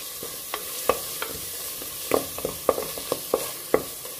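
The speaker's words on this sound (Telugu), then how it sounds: "ఒక 1/2 టీ స్పూన్ పసుపు వేసుకొని ఒక్కసారి దీన్ని కలుపుకోవాలి" A spoon stirs turmeric into cooked methi rice in a pan, giving irregular scrapes and clinks against the metal over a soft hiss, close up and without speech.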